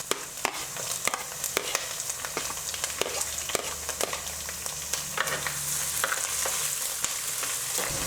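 Ginger and garlic with coconut frying in a pan for a Kerala-style country chicken curry, a steady close sizzle broken by sharp clicks and scrapes of stirring throughout, with no talk.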